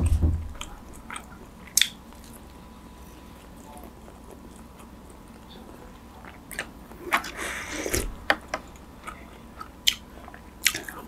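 Someone eats herbal chicken soup with jaew dipping sauce, with soft close chewing and slurping under a low background hiss, broken by a few sharp clinks and crunches.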